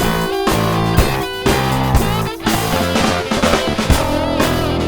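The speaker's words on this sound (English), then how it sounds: "bear in mind that this track is very distorted." A heavily distorted rock mix pounds along with thick saturated guitars, driving drum hits and a crushed, loud wall of sound that stays dense and continuous without any speech.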